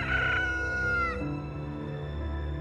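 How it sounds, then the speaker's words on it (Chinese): A rooster crows nearby, one drawn-out call that bends downward at the end and trails off into faint background noise. "公鸡打鸣嘛"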